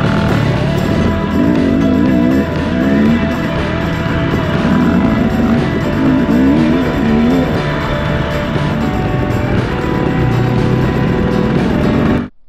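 Dirt bike engines roar through tight woodland single track on the Mondon Hill hare scramble course, a continuous loud drone with rising and falling revs as the bikes wind through the trees.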